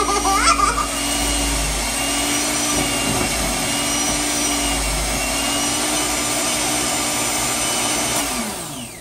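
An electric mixer whirs steadily through a batch of chocolate chip cookie dough, a continuous loud motor drone with faint scraping and clatter for about nine seconds before it winds down.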